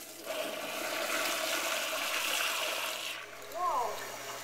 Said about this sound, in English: I heard this toilet can flush is very powerful.